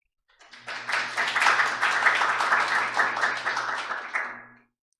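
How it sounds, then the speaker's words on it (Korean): Applause for the society president's opening address at the 30th anniversary conference of the Korean Society of Occupational and Environmental Hygiene, a burst of dense clapping that swells quickly, holds for about four seconds, then tapers off into silence. "많은 박수 부탁드립니다"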